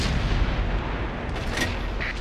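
A tank cannon shot in World of Tanks, Type 4 Heavy, heard as a brief, heavy boom under a dense, loud battle-noise bed.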